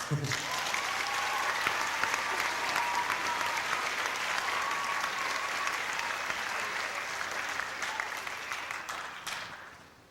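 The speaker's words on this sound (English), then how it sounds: "Now you may applaud." A crowd at a 2005 community walk event applauds township officials, with steady, dense clapping sustained for about ten seconds before tapering off at the end.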